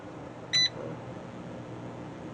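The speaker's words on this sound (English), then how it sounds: "my air fryer, I'm going to go ahead and turn it on real quick" An air fryer running on an RV solar power system gives a single short, high electronic beep as it switches on, heard faintly over a low steady hum.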